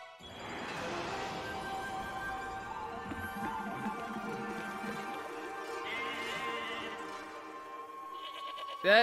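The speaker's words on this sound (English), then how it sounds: "That is a very drunk goat. Or sheep, excuse me." A goat or sheep in the video game Ōkami bleats in one long, wavering, drawn-out call that fades and rises again, clear and prominent over a quiet game background, with no talking.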